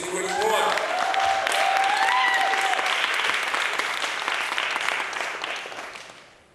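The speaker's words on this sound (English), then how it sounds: "Please give her another round of applause." A panel audience at a teach-in gives a speaker a sustained round of applause, steady and full for several seconds before tapering off, with a voice briefly audible underneath at the start.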